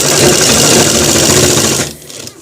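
A sewing machine stitches a pant belt in one fast, continuous run lasting almost two seconds, then stops abruptly and leaves near silence.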